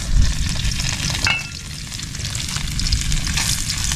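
Onion frying with garlic and ginger in a pan, a steady crackling sizzle with occasional stirring scrapes, close and fairly loud throughout.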